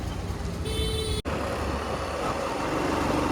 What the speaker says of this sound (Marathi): दोन अडीच वाजले तरी ट्रॅफिक बघा किती आहे